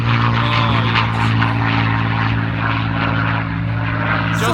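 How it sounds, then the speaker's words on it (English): P-51 Mustang propeller aircraft flying over, a loud, steady droning engine roar with a deep throb, sustained and close throughout. "There's our Mustang"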